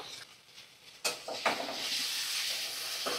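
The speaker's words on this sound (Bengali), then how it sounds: "নুন হলুদ দিয়ে ভালো করে আমি ভেজে নেব।" Boiled ghugni peas fry with salt and turmeric in a pan, giving a steady close hiss of sizzling with a couple of sharper bursts as the mixture is stirred.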